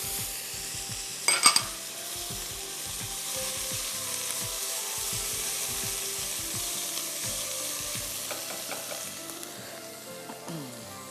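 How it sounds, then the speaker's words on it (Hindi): Ginger garlic paste and mustard seeds fry in a pan, a steady close sizzle with spattering pops and repeated scrape-and-clink strokes of a spoon against the metal, including a sharper clatter near the start. "अब इसमें अदरक लहसुन का पेस्ट, अच्छी तरह उसको भूनिएगा, और फिर आप उसमें राई दाना डालिएगा"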